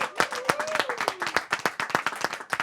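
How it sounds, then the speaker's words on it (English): Audience clapping at a hackathon pitch event finale: a smaller, close group producing distinct, uneven claps in a quick rhythm, with a brief cheer heard underneath. "big applause for you guys"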